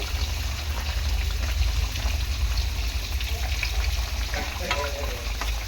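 Chicken fries and sizzles in a pan while being stirred, a steady close crackle with scraping and stirring noises throughout and no voices.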